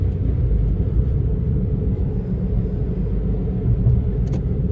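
A 2017 Mitsubishi Mirage small car engine holding higher revs with the shifter in sport mode, a steady low rumbling drone heard from inside the cabin, even and continuous with no talking.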